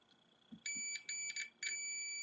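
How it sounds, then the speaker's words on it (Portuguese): Several sharp electronic beeps from a multimeter in continuity mode, probing a circuit board trace on a Gree air conditioner control board; steady high tones in short bursts, close and clear over a quiet background. "ele vai emitir um bip se a trilha estiver ok"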